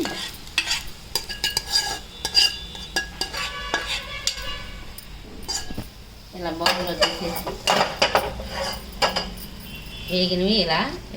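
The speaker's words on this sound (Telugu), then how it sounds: "ఈ వేగినవన్నీ ఒక బౌల్లో ఇలా" Fried legumes scooped from a metal pan into a bowl, with repeated scraping and clinking of a spoon against the pan and a light sizzle between the strokes.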